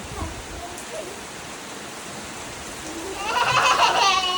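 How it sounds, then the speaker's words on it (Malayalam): Heavy rain pours steadily outside a house in Malappuram, Kerala, a broad continuous hiss that swells louder and denser toward the end. "നല്ല മഴ അങ്ങോട്ട് പോകണ്ട ആ വെള്ളം മുഴുവൻ ഇങ്ങോട്ടാണ് വരുന്നത്"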